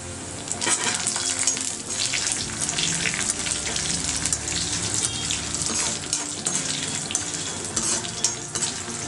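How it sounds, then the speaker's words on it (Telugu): Cumin, coriander seeds and dried red chillies fry in oil over a medium flame, giving a dense, even, close-up sizzle with fine crackles throughout. "జీలకర్ర, ధనియాలు, ఎండుమిర్చి కూడా వేసేస్తున్నాను"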